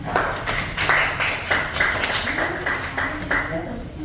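Classroom applause, a small group clapping in a loose, uneven rhythm of distinct claps, close and fairly loud, with voices talking over it throughout.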